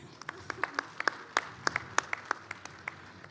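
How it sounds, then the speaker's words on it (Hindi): Audience at a poetry recitation event in Lucknow claps for a few seconds, with sparse, distinct handclaps and a faint, thin spatter of applause behind them. "एक बार तालियां बजाइए।"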